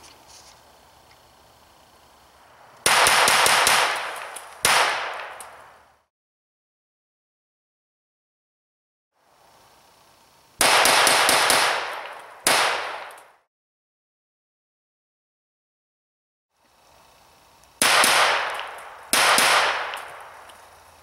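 A Browning Buckmark .22 pistol fires at reactive targets outdoors, three separate bursts of sharp, loud shots, each a quick string of several cracks followed by a pause.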